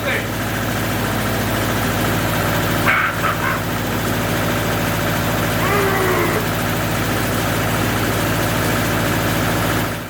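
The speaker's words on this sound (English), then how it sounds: "I hooked up the mixer to the tractor for the first time" A tractor engine idles while driving a homemade mixer, a steady low rumble with a droning hum throughout, and a dog barks briefly in the background.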